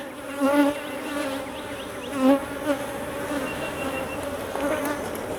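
Steady buzzing of many bees close by, a dense droning hum with a few louder passes swelling in and out.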